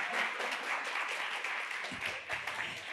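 Congregation applauding during a church service, heard as soft, distant, continuous clapping from a gathered audience, fairly faint throughout its short length.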